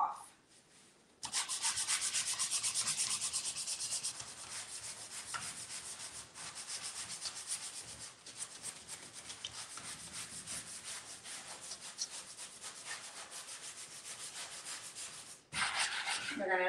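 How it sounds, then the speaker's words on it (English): Sandpaper rubs back and forth over painted wood furniture coated in black wax, a steady close scratching with short pauses near the start and end. "I am going to sand about half of this color back off."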